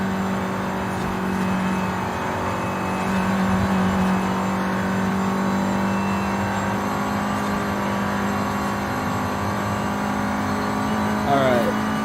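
A 2014 Volkswagen Golf R pulling hard through a road section, its engine drone steady and close from start to finish, with a brief whine of shifting pitch near the end.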